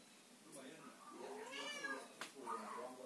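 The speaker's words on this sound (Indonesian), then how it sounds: "Ada juga kucing." Indoors at a toy shop, a cat gives a series of plaintive meows, rising and falling cries that are fairly close but moderately quiet, with soft knocks in between.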